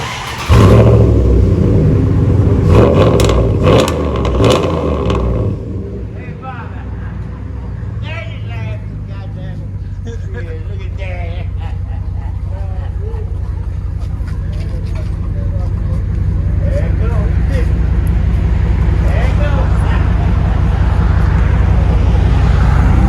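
A Dodge Ram truck with a 5.7L or 5.9L engine revving outside, loud deep rumble with bursts of acceleration early on, then settling into a sustained lower engine drone while people talk nearby.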